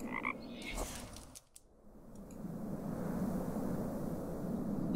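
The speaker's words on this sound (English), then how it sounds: "Hey, that was a frog." A frog croaks briefly in the Mystery Trackers: Raincliff game, with a few short croaks near the start over a steady windy ambient bed.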